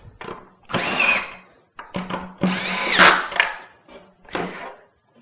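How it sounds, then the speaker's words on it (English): Power driver running fastening hardware into threaded inserts on an MPT L-Boxx worktop, several loud whirring bursts of a second or so each with short pauses between, close up and without talk. "And then you drive the fastening hardware into the threaded inserts."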